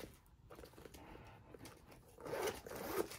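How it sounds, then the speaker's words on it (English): A small zipper is slid along a Dior Saddle handbag, a soft close rasp that grows louder near the end, with faint rustling around it. "Zipper slide perfectly, as you can see."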